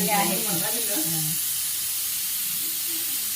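Refined oil sizzling hot in a pan for chicken korma, a steady broad hiss that continues throughout, with a voice speaking briefly over it at the start.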